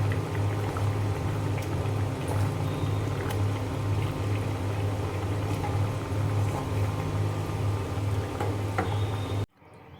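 Curry of singhi fish and cauliflower simmering in a pan, a continuous close bubbling and popping with a steady low hum, running evenly until it cuts off abruptly near the end.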